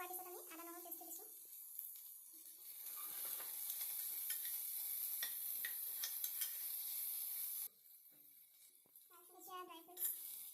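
Ginger garlic paste sizzles and fries in a pan with browned onions, a continuous crackling hiss broken by stirring scrapes, with short bursts of voices at the start and near the end.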